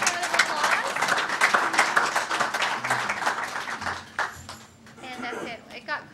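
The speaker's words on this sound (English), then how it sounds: "let's give them a big round of applause" An audience at a school board meeting claps in a dense, steady burst of applause that fades into scattered claps near the end, with voices talking underneath.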